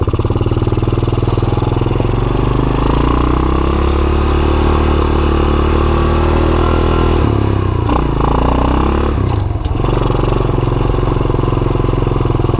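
Cheap Honda all-terrain vehicle engine idling while warming up, a loud close steady putter with mechanical clatter and a brief dip and wobble in revs partway through, no talking.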